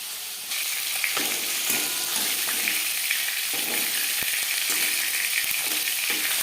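Latha fish frying in a pan, a loud, close, continuous sizzle and crackle with occasional sharper spits and pops, no voices.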